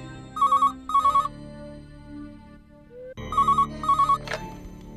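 A telephone rings indoors in a TV drama scene, with two pairs of bright electronic trills, a short pause, then two more pairs.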